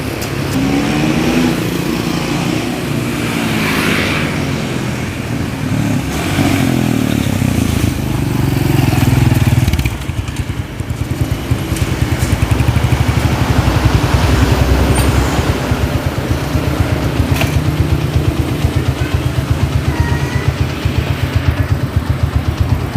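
A motorcycle engine that pulls sluggishly, as if something is holding it back, runs loud and steady at close range, with a sustained throbbing rumble and no voices over it.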